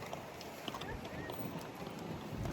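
Steady wind buffeting the microphone outdoors at a Florida flea market, a constant rushing noise with faint voices and background activity beneath it.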